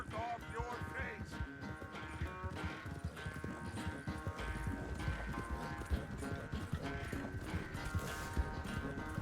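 Horse hooves clip-clop steadily in Red Dead Redemption 2, a rhythmic trot running under a bed of game music with harmonic tones throughout.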